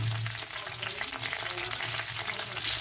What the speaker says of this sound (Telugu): ఒక ఎండుమిరపకాయ, బిర్యానీ ఆకు, జాతి పువ్వు వేసుకోవాలి. ఇవి కొంచెం కాలిన తర్వాత పచ్చిమిరపకాయలు వేసుకోవాలి.